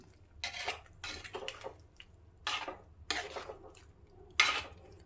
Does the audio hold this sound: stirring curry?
yes